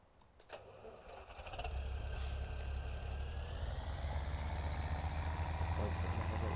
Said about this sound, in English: This tractor.